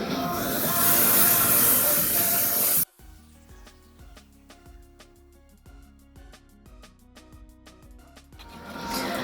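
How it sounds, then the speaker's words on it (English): Face mist sprayed onto the face and neck at the beach, a loud continuous hiss of a few seconds at the start, then quiet background music, with a softer burst of spray at the very end. "So I'm just going to spray it onto my face and neck."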